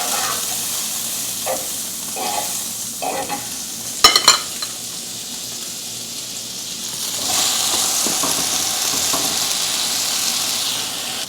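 French toast frying in butter in a pan over medium heat, with soft sizzling, a few short stirring and scraping noises, a brief sharp clatter, and the sizzle swelling toward the end.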